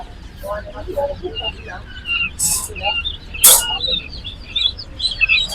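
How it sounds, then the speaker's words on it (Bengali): Pullet quails at a busy poultry market chirp and tweet in short high bursts, a scattered, fairly close chatter among people talking and a few sharp clacks. "এটাও হচ্ছে পুলেট কোয়েল পাখি"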